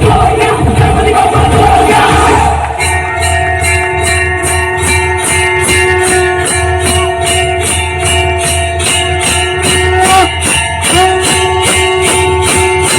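A crowd claps and cheers loudly at a Ganeshotsav performance in a residential housing society. The dense burst lasts about two seconds, then steady music takes over.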